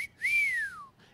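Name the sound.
imitated whistle intro of a song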